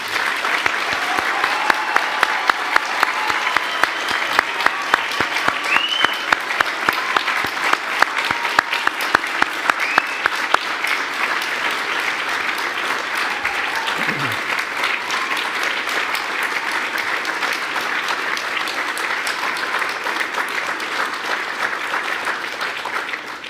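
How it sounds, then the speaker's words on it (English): Large audience at a university degree ceremony in Dublin applauding the graduates, a long, dense and sustained roar of clapping that holds steady before slowly thinning out, with faint voices beneath it. "giving all of our amazing graduates a"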